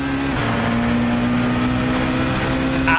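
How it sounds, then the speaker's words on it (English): BTCC Super Touring cars with little four-cylinder engines scream at high revs in the Assetto Corsa racing game, a loud sustained engine whine held steady, then cut off abruptly at the end. "hear those super touring little 4-pot engines screaming to within an inch of their life"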